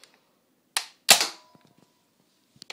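A Nerf Maverick blaster fires a foam dart, giving a sharp close pop followed a moment later by a louder snap and short clatter, then faint light taps in near silence.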